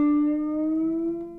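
An awkward guitar string bend: a single sustained plucked note rings clearly on its own, its pitch wavering slightly as it slowly fades.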